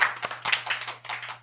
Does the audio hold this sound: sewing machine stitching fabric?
no